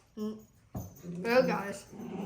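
Dogs playing together let out short whimpers, yips and whiny growling bursts close by, with people's voices mixed among the sounds.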